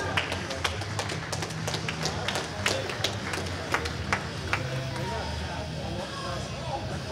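Scattered applause and claps from the crowd at a Bellator MMA weigh-in in Kansas, sharp individual claps over a steady murmur, with an announcer's voice over it.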